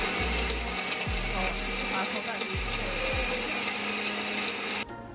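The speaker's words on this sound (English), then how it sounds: "So what you have here is the pepper crayfish that you have, that I'm grinding now." An electric grinder whirs steadily while crushing pepper and dried crayfish for Nigerian home cooking, with repeated dipping low-pitched motor pulses under a loud continuous rattling grind that stops abruptly near the end.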